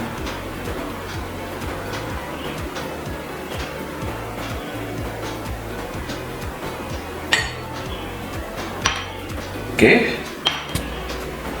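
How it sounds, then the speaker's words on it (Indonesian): Base oil mixture stirred in a glass container, a steady run of light ticking and clinking taps from the stirrer against the glass, with a few sharper clinks near the end and a voice speaking briefly. "Udah, kita aduk sampai bening ya teman-teman."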